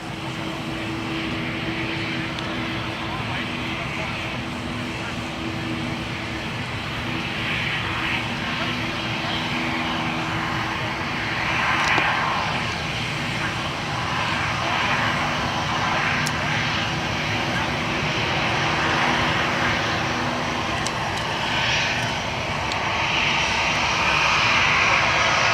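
Aircraft engines drone steadily at Gold Coast Airport, a continuous broad roar with a low tonal hum that swells slightly midway, heard outdoors with wind and faint background noise throughout.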